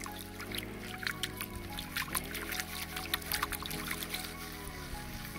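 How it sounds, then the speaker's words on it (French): A gold pan held under water and shaken gently during panning, giving a steady trickling, pouring wash with soft sloshing pulses that stays low and continuous. "on met notre assiette sous l'eau, on secoue légèrement"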